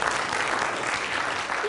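Brief burst of audience applause at a wind energy symposium closing session, a dense, even crackle of many hands clapping close and loud, with no voice over it.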